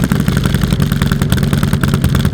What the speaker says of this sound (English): I'm sure you already know, but it's a street glide. You know, it's supposed to have a 114, now it's got a 131